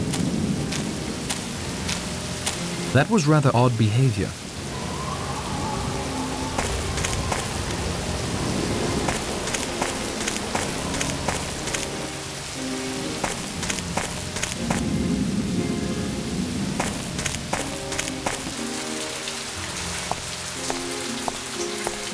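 Steady rain pattering with rumbling thunder in the mystery game And Then There Were None, set on a storm-lashed island, a loud thunder crack early on, and someone speaks briefly over the downpour.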